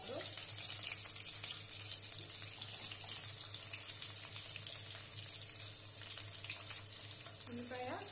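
Onion tossed into hot oil with spluttering mustard seeds for a brinjal, potato and tomato curry, giving a steady dense sizzle with crackling pops and occasional utensil clinks, close and continuous.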